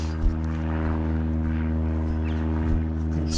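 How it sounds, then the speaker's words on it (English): A propeller plane drones overhead at wetlands, a steady low humming engine tone holding throughout at moderate distance, with faint outdoor ambience around it. "plane flying overhead."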